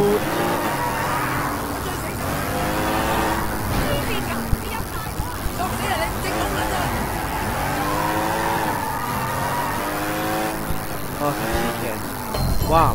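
A speeding car in the Sleeping Dogs video game, engine revving and rising in repeated sweeps with tire noise, steady and loud beneath someone talking throughout.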